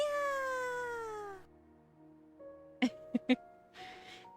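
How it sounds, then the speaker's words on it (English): A cat in the Love and Deepspace video game gives one drawn-out meow that slides downward, followed by quieter tones and a few short sharp clicks against a soft background. "Our kitty cat. It's so adorable."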